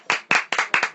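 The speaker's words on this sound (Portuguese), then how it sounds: "Aplausos." Six sharp claps land in an even rhythm, loud and close with brief gaps, a lone clapping burst after a spoken call for applause in a Portuguese news commentary.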